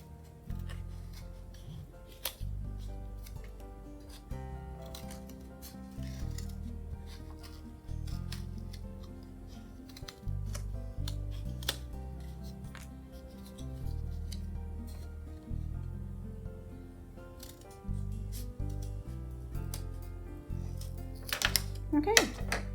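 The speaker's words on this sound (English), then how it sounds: "Scissors are going to have to be kind of sharp." Sharp scissors cutting out a paper cat for a Halloween craft, many quick snips and paper rustles in an irregular rhythm, close up, under steady background music.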